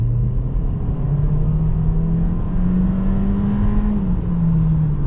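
A 2026 Volkswagen Taos accelerates from a stop, heard from inside the cabin. The engine hum rises slowly in pitch over a steady road and wind rumble, moderately loud and unhurried, with no voices.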